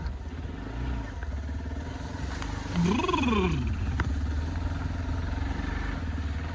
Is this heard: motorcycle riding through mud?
yes